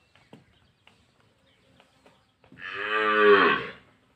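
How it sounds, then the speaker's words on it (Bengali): A cow that has wandered into a village house gives one loud, close moo after a few faint clicks and rustles. "কাদের হাম্বা আমাদের বাসায় ঢুকে গেছে"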